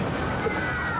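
Water sloshes and splashes steadily over riders on the Congo River Rapids water ride at Alton Towers, a continuous rushing wash with voices heard under it.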